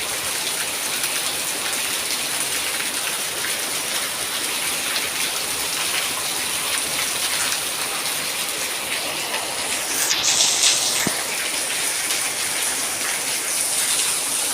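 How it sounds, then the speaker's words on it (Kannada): Heavy rain pours steadily in Udupi, a dense continuous hiss of drops hitting surfaces with a brief gust-like swell partway through, and no voices. "ಮಳೆ ನೋಡಿ ಹೇಗೆ ಬರ್ತಾ ಉಂಟು ಅಂತ"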